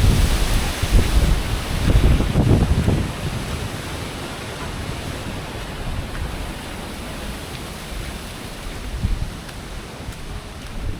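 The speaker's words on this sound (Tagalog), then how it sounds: "Grabe hangin." Strong super typhoon wind roars and buffets the microphone, gusting loudest at first and then settling into a steady rushing noise with no talking.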